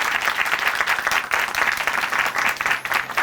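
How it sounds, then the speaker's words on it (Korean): A congregation at a church testimony program in Chuncheon gives a sustained round of applause, dense clapping continuing steadily throughout without talk. "다시 한번 큰 박수 보내드리겠습니다"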